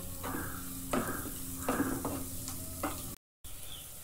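Fish curry masala is stirred in a pan while it fries, with a low sizzle under a few spoon scrapes and clinks against the pan. A brief gap of silence comes near the end and no one speaks.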